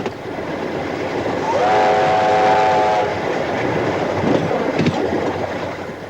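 A steam train in Australia rumbles past with rhythmic clanking, and a brief steam whistle sounds partway through, loud and close.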